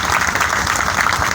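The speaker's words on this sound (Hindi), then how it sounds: "आपको मन नहीं करता तालियां बजाने का?" An audience at a Hindu devotional scripture recital breaks into loud, dense applause, a steady close roar of many hands clapping together.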